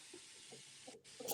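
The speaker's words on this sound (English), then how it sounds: "You gotta let it sizzle" Butter sizzles in a pan with a steady broadband hiss and small crackles, close and fairly quiet, with a brief dip before a louder spatter near the end.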